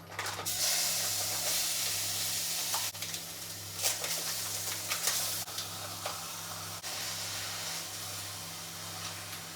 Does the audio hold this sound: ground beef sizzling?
yes